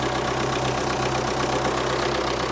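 An MTZ-892 tractor engine with a newly replaced Czech turbocharger idles steadily, a dense continuous diesel rumble with a faint knocking texture, close and loud throughout.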